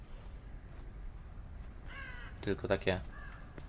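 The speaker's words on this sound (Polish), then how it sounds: "Mam nadzieję, że te kruki mnie nie, nie zdradzą." Ravens caw in the horror video game The Evil Within 2, a quick run of harsh, close calls bunched near the end, with someone speaking briefly in Polish.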